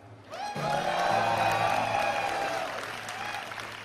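Applause and cheering from a live audience voting for Spectral Knight during a Hearthstone Arena stream, a dense wash of clapping that swells quickly and holds steady before easing off, with voices whooping within the crowd.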